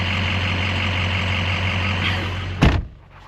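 A pickup truck engine runs with a steady low idle rumble, close and loud, until a sharp thud near the end, like a door or hood closing, after which it quiets.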